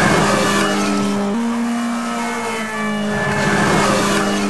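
A getaway car from a jewelry robbery roars at high speed on the A86 motorway during a police chase, its engine loud and close with a steady pitch that jumps once as it shifts gear.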